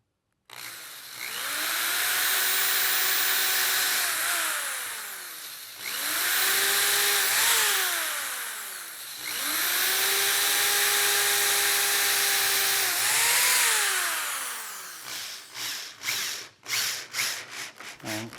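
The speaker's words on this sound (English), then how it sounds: "by drilling that pilot hole, the screw is easy to put in" A power drill bores a pilot hole into old hardened oak on a courtroom stage set, three long whining runs of the motor, each rising and then dipping as it strains into the wood, ending in a series of short clattering bursts.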